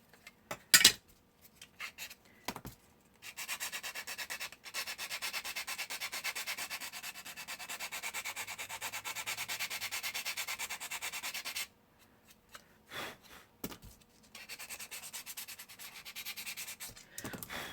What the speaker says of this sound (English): Just trying to sand out this little spot.